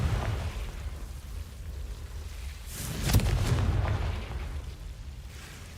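Blasting-spell explosion in Hogwarts Legacy on PS5: one loud boom bursts out around the middle over a low, rumbling game background, then fades into lingering noise.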